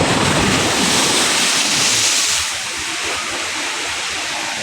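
Sea waves breaking on the shore of Manila Bay, a steady loud roar of surf with wind noise that eases slightly partway through, with no voices.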